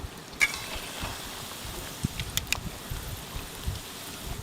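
Potato and semolina snacks frying slowly in medium-hot oil, producing a soft, low bubbling with scattered small crackles and pops throughout.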